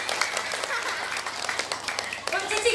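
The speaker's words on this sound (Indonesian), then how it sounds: "tepuk tangan heula" Audience clapping at a Sundanese-language gathering, a steady patter of many hands spread through the clip with voices mixed in underneath.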